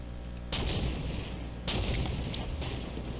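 Gunfire in Halo 5 during a capture-the-flag match, heard as two or three heavy blasts that each cut in abruptly and hold a dense, booming wash, loud and close, with no talk over them.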